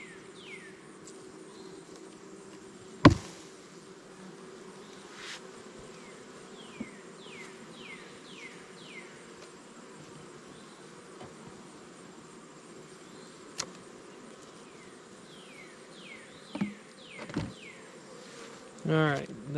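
A steady insect hum of honeybees in an opened hive fills the background, with occasional faint clicks and knocks from handling frames; no speech.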